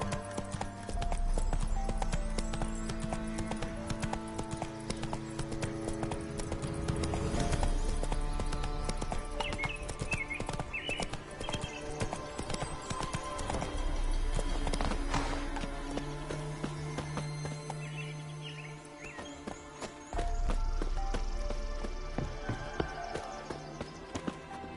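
Roach, the horse in The Witcher 3, gallops with rapid rhythmic hoofbeats that stay close and loud throughout, over a steady game music bed, with the pace shifting slightly as it runs.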